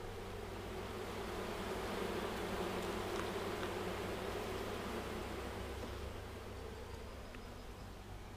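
Honeybees swarm around a beekeeper's box and car, giving a steady, dense buzzing hum that stays close and even throughout, with no talk.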